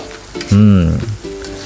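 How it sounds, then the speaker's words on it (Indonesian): Blended spice paste sizzles and fries loudly in hot oil in a pan for sweet spicy soy-sauce tempeh, a strong burst of crackling with bubbling hiss that settles into steadier frying, close and alone. "masukkan bumbu halus yang di blender tadi. Nah, di tahapan seperti ini paling penting ya, kita tumis terlebih dahulu untuk bumbunya"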